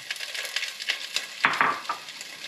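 Pork hits an oiled, heated pan and sizzles steadily, with a sharper burst of crackling and a light scrape of the utensil midway; no voices.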